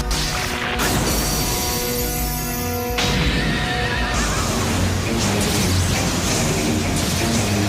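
Galaxy Pegasus, the winged horse of the Beyblade anime, neighs in a loud, drawn-out whinny over dense crashing and impact effects, with an abrupt cut around three seconds and continued heavy clashing.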